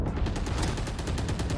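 Rapid automatic gunfire in a first-person shooter video game, a dense rattling burst of closely spaced shots lasting under two seconds at high volume.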